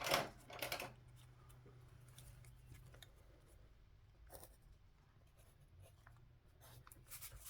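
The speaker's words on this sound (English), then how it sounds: "I'm going to put a little pencil mark here so I know where I'm putting it." A pencil scratches on paper in quiet, short strokes, a couple of brisk scribbles at the start and fainter rubbing after, close by with no talking.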